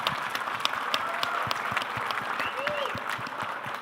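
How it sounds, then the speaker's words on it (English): Audience applause for a panel at a live-streamed network event, steady and fairly close, a dense wash of clapping hands lasting the whole stretch with a faint voice briefly audible underneath. "let's give our panelists a quick round of applause"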